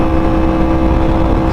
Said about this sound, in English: Let me quiet down my bike real quick. It's super loud.